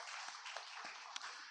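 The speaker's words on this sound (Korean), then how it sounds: "우리 하나님께 영광의 박수를 올려드리겠습니다" A church congregation applauding during a sermon, a steady, soft wash of many hands clapping together with a few slightly sharper claps poking through.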